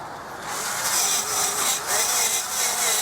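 An Aldi cordless drill boring into wood, a loud, close, rough grinding whir that holds steady for about two and a half seconds after a short quiet start, with slight surges in intensity.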